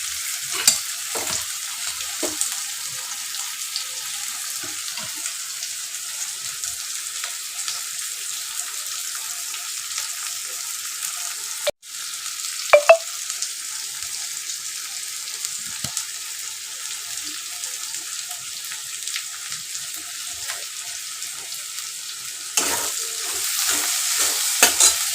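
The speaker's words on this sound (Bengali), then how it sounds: "পেঁয়াজ ভাজা হতে হতে" Onions and meat for chicken curry fry in a pan with a steady, even sizzle, broken by occasional scraping clicks of stirring and a brief tap-like splash, with no one speaking.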